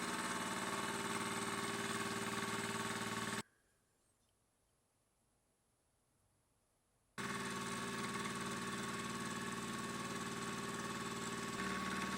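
A milling machine cuts brass stock under coolant with a steady, loud mechanical drone that stops abruptly into silence for a few seconds, then resumes at the same level.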